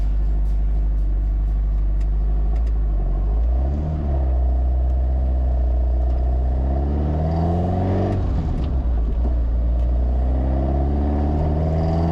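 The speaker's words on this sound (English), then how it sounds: "Here we are, finally, in the SuperSport on the road." A Lotus Elise SuperSport driven on a country road in West Sussex, its engine droning loudly and steadily from inside the car, with rises and falls in pitch as it accelerates and eases off, and no talking.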